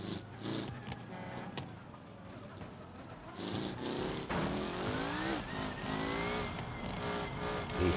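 A Toyota Yaris GR driven in BeamNG, engine revving up and down with rising gear sweeps and some tire noise, fairly close and steady.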